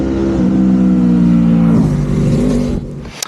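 A Honda CRF300L dirt bike with a stage 1.5 tune revs loud and close, its engine note climbing and wavering before cutting off sharply at the end.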